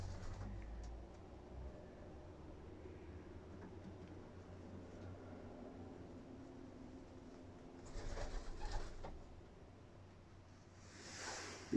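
Pigeons at a pigeon loft, with soft low cooing and rustling over a steady low background hum, plus a brief louder scuffle of movement near the end.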